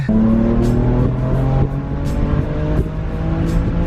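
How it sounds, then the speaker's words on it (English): BMW F80 M3 accelerating hard as its turbos come on, the engine droning loud and close from inside the car with rising tones and brief shift breaks. "When the turbos kick in, it's like, it just starts flying."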